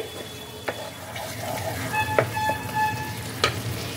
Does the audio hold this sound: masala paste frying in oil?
yes